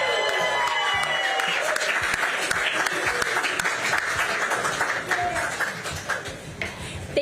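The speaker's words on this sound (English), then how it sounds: "Ladies and gentlemen, a big round of applause for Suzanne Whatley." Crowd applause at an election-night event in Texas, a steady broadband wash of clapping lasting several seconds with voices mixed in, thinning slightly toward the end.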